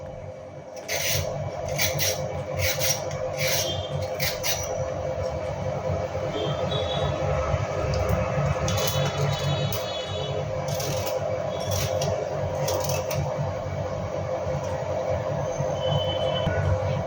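Knife chopping carrot, tomato, capsicum and beetroot into small pieces in a home kitchen, with bursts of quick, crisp cuts against a steady background hum, no one speaking.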